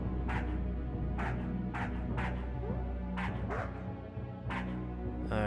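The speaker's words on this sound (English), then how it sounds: "I don't like these dogs." Dogs bark in a video game, with about eight short bow-wow barks in uneven bursts over a steady droning game soundtrack.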